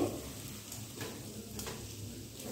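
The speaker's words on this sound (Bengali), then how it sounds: "আর এরকম করে উল্টে পাল্টে কিন্তু দুই দিকটাই ভালো করে ভেজে নিতে হবে।" An egg paratha fries in a pan while being turned, giving a steady, soft, continuous sizzle that stays close and even throughout, with no talking.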